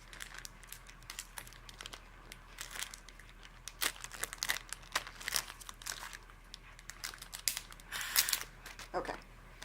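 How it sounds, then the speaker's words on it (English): A sterile medical package being torn and crinkled open, with sharp irregular rips and plastic rustling close by over about ten seconds. "Just tear it open so that you can stay as sterile as possible."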